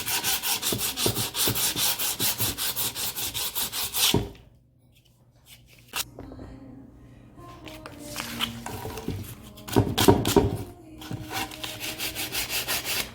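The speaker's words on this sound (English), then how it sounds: "I'm going to sand it smooth." Sandpaper worked by hand along the edges of salvaged, hand-cut wood, close rapid rhythmic scrubbing strokes that stop for a couple of seconds, resume with softer scraping and handling, then return to steady brisk sanding.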